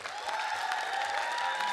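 Audience applause at a Kazakh late-night comedy show, a short, fairly faint burst of clapping with a sustained tone running beneath it and no talk.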